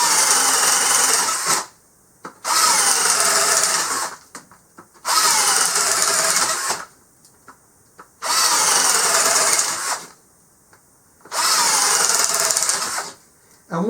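A cheap 20 volt cordless drill bores a series of holes: five long, loud high-pitched whirring bursts of about two seconds each, separated by short pauses, close by with no talking.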